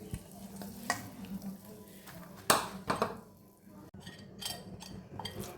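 Soaked puffed rice is mixed by hand into thick pakora batter in a bowl, giving wet, squelching stirring sounds with a few louder scrapes and knocks, close and steady, with no voices.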